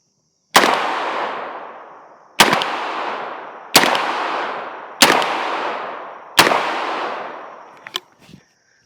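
An ATI Bulldog shotgun fitted with a V6 muzzle brake fires five loud, sharp blasts spaced about 1.3 seconds apart, each ringing off with a long decaying echo, followed by a few small clicks of handling.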